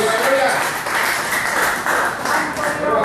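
Church congregation applauding for Jesus, a dense, loud burst of many hands clapping together for about three seconds, continuous and close with no pauses.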